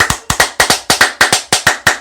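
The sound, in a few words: double booty clapping sound effect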